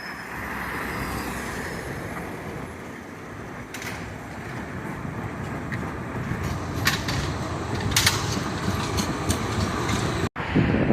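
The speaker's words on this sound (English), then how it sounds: "Check out the streetcar, guys. You've got one old one here, and then you've got a new version of the streetcar." Old and new streetcars passing through Riga old town, a broad rumbling rail roll with clacking and metallic squeals, heard close amid street ambience and growing louder toward the end.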